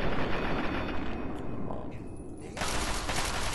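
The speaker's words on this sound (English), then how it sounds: "So I'm gonna choose to shoot at his head." Gunfire from the Fallout 3 video game, a loud, dense stretch of continuous rapid shots and impacts with heavy rumble, filling the whole moment without a break.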